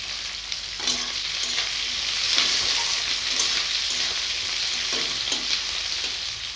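Bay leaf, whole garlic, sliced onion and green chili frying in hot oil, a continuous crackling sizzle with repeated soft stirring knocks spread across it.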